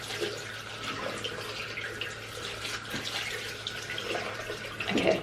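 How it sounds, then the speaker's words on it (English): Hot tap water pours steadily into a bathroom sink during a skincare rinse, a close, continuous splashing rush with a brief louder splash near the end. "Okay, that's the hot water."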